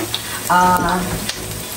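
Diced pork ribs hit a hot frying pan with a sudden loud sizzle lasting about a quarter second, then settling into a steady, softer frying hiss with faint clicks.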